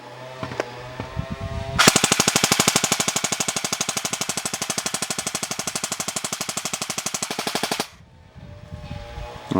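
Kriss Vector airsoft AEG firing one long full-auto burst, a rapid, evenly spaced mechanical rattle of shots lasting about six seconds, close and loud, then stopping abruptly.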